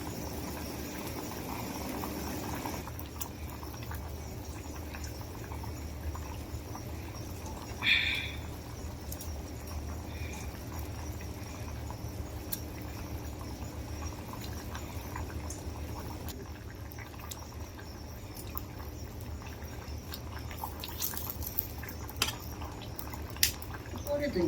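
A pot of rohu fish curry simmers with a soft, continuous bubbling, faint and steady throughout, with occasional small clinks and background sounds.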